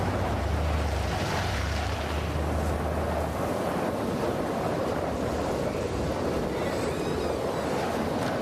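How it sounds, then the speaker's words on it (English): Strong wind rising ahead of a tornado, a steady, dense roar with gusty swells that stays loud and close throughout, with no voices. "The wind is picking up."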